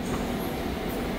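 Subway train on the Gyeonggang line at Gonjiam station gives a brief, steady rumble of rolling wheels and car noise, close and continuous with no voices.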